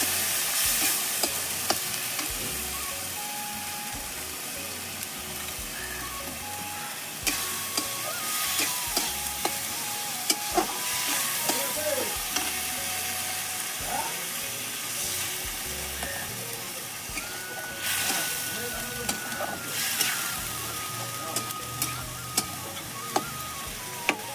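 A potato and onion-flower curry is stirred and sautéed in a pan, with a continuous frying sizzle under repeated spoon scrapes and light taps on the pan, steady and close throughout, with no voices.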